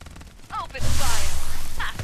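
Rapid gunfire in the mobile shooter Farlight84, a loud burst of fast repeated shots kicking in partway and running steadily to the end, with brief game voice lines before and around it.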